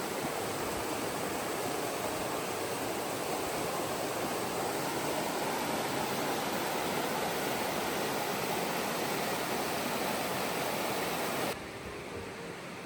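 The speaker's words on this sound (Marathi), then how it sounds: "इथे अशी ही मध्ये क्रीक आहे, त्याचाच एवढा आपल्याला आवाज येत होता मगाच्यापासून पाण्याचा" Water rushes steadily in a continuous hiss from a fast-flowing creek close by on a forest trail in Tennessee, with no voices.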